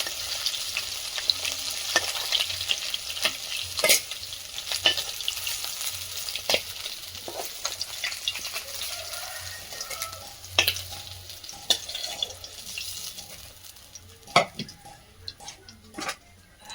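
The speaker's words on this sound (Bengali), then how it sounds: "মাছ ভাজতে দিয়ে ওদিকে জিরেটাও বেটে নিচ্ছে" Fish frying in a pan over a wood fire outdoors, a steady close sizzle with scattered clinks of utensils and pot sounds throughout, with no talking.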